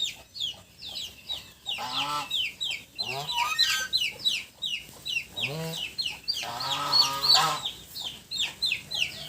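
Chickens cluck repeatedly around a farm cattle pen during the rainy rice-planting season, with bursts of squawking and crowing-like calls, a few loud and close, over a background of softer clucks.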